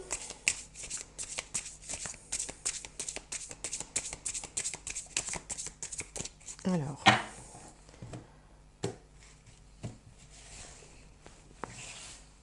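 Tarot cards being shuffled at close range, a rapid run of crisp riffling flicks that turns into a loud burst and then slower, scattered card slaps.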